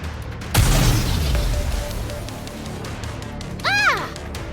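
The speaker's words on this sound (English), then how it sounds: "They appear to be homemade. The explosions aren't stable." Unstable homemade explosives go off in a Goddess of Victory: Nikke battle, one heavy close boom followed by a long rumbling tail, then a second burst later amid game effects.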